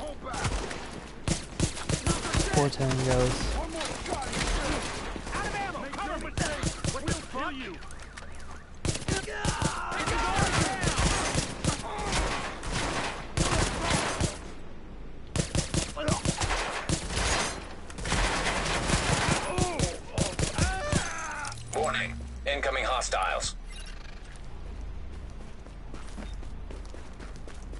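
Gunfire in the third-person shooter Tom Clancy's The Division, bursts of rapid automatic fire and fusillades stretching over half a minute, with a radio-style voice and people talking over the shooting.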